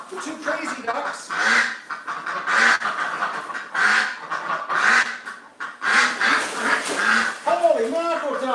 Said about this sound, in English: The two crazy ducks.